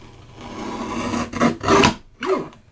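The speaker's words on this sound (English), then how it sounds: "Let's try this little trimmer and see how we do here." A small paper trimmer slices a half-inch strip of cardstock, making a few close, quick rasping slides of the blade with a sharp final scrape, each burst brief and separated by short gaps.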